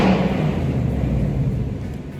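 A car engine revs inside a home garage, giving a steady, loud, close rumble that holds for a couple of seconds and eases slightly toward the end.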